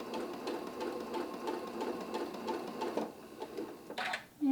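A sewing machine stitches quilt fabric for a fan-pattern block, its needle running in a steady, fast mechanical whir close by, with no speech and a brief click near the end.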